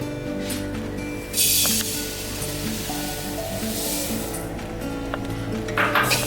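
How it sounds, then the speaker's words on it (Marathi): Homegrown sesame seeds dry-roast in a pan over a low flame, giving a soft, steady crackle and rustle with a few louder bursts. Faint tonal sounds run underneath, and there is no talking. "प्रथम तर आपण तीळ भाजून घेऊयात"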